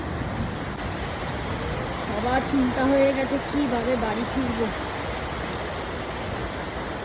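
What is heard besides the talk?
rain falling during a picnic storm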